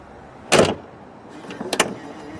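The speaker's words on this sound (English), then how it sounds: "to shut the hood, you start by shutting the hood like normal and then it latches itself" Aston Martin DB11 hood shut by hand, a loud thump followed by a whirring power latch that draws it closed with a couple of quick clicks, close by, no talk.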